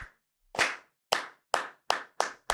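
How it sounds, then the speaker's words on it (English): One person does a signature hand clap: six sharp, isolated claps, close and crisp, with the gaps between them shortening so the rhythm speeds up toward the end. "And I still do the clap. I do the clap."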